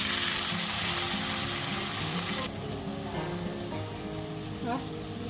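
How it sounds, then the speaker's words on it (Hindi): Panch phoran spices sizzle loudly in hot mustard oil in a pan, a steady close crackling hiss that eases slightly partway through, with a few faint clinks. "सो यहाँ सरसों का तेल गर्म हो गया है तो डाला है मैंने 5 फोड़न।"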